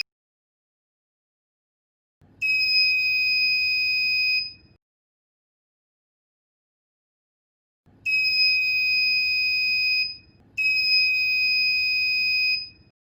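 An RCWL-0516 microwave motion sensor's buzzer sounds three times, with a long tone of about two seconds followed after a pause by two shorter ones close together, each a steady, loud electronic beep with silence between.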